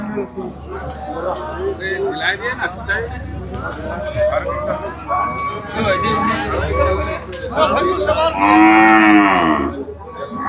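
Murrah and Jaffarabadi buffalo calves moo repeatedly amid a busy livestock market, with a long, loud bellow near the end over steady chatter and background crowd noise.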